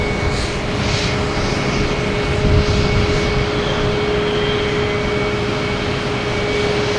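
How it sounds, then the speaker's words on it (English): An Aer Lingus Airbus A330-300 arriving from Dublin at Boston Logan gives off a sustained jet-engine roar with a steady whine, near and loud for the whole stretch, with no voices. "next to arrive is Aer Lingus coming in from Dublin at A330, 300"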